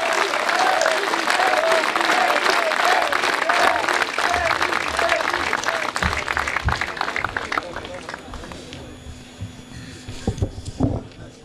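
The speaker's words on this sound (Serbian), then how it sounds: "Molim vas da gromoglasnim aplauzom pozdravite predsjednika Bošnjačke demokratske zajednice, gospodina Emira Elfića." Loud sustained applause from a large crowd at a Bosniak Democratic Community party convention in Sjenica, dense clapping with cheering that thins out toward the end as scattered claps and crowd noise remain.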